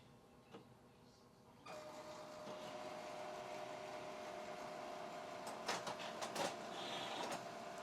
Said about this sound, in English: Let's print out a demo page to see if the printer works.